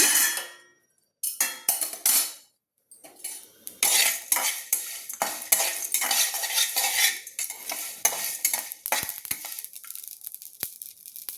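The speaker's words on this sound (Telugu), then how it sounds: "చిట్పటాని నిమిషంలో వేగిపోతాయి గసాలు" Poppy seeds frying in a pan and stirred with a metal spoon, giving scraping and clinking strokes over a steady crackling sizzle that starts in short bursts and then runs continuously; no talk.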